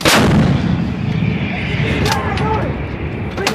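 An M777 towed 155 mm howitzer fires during a live-fire drill, one close, loud blast with a long rumbling echo that rolls and fades across open ground while crew voices call out faintly.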